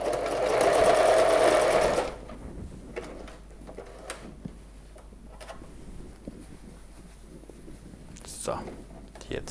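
A sewing machine runs in one loud, steady burst for about two seconds while stitching a jeans fly zipper, then stops, leaving faint handling clicks and light rustling of the denim and presser foot.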